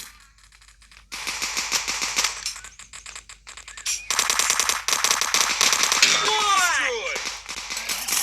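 Rapid automatic gunfire bursts and single shots from the video game Dude Theft Wars crackle loudly and repeatedly, with bird-like chirps near the end and a person talking over the action.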